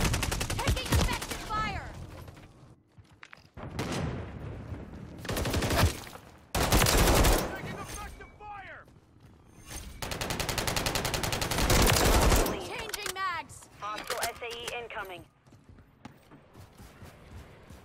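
Bursts of automatic gunfire in Call of Duty: Modern Warfare 3 multiplayer, loud repeated volleys separated by short gaps. Game voice callouts and effects come between the bursts.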